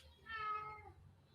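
A cat gives a single short, clear meow, close but quiet, against faint low background hum.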